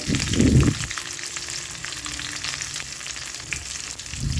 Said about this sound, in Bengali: ভালো করে এটাকে ভেজে নেবো